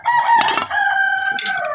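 A rooster crows close by, one long strained call with a rising, wavering tone, followed by a brief second squawk.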